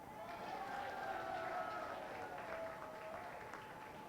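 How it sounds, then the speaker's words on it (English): Students' Union election night crowd applauding the candidates, a steady wash of clapping from a sizeable audience, fairly distant and soft, holding evenly throughout with no voices over it. "just a round of applause for everyone that took part in the Students' Union elections."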